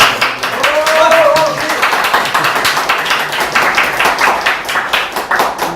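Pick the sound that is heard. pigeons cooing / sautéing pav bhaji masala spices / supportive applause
supportive applause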